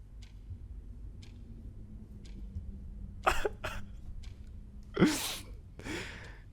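A sharp, sudden sneeze bursts out loudly after a few quieter coughs and breathy noises, with a low hum underneath and no speech.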